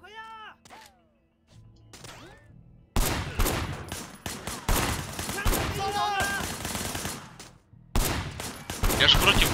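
Pistol and other gunshots in the open-world game Sleeping Dogs, loud rapid bursts of firing after a quiet opening with a voice, continuing through to the end with brief gaps and short sharp cracks.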